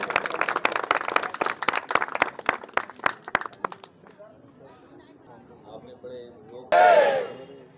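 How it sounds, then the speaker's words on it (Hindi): A crowd at a government outreach event in Jaitpur, Singrauli, India, applauds to welcome the chief guest, a fast dense clapping that thins to scattered claps and fades, then a loud voice speaks over a public address system. "जोरदार तालियों से स्वागत करिए।"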